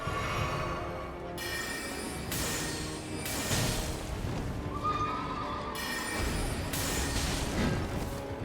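A horse neighs in the Elden Ring video game, a clear whinny over rhythmic hoof clip-clops and a dense rumbling battle backdrop, moderately loud, with no talking.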